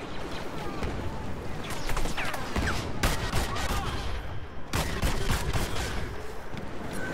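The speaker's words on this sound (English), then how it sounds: "This is a good weapon. It's just slow and you have to tap it to fire it." Slow, tap-fired blaster shots in Star Wars Battlefront, several sharp separated cracks spaced a second or more apart over a dense, loud battlefield din of distant firing and explosions.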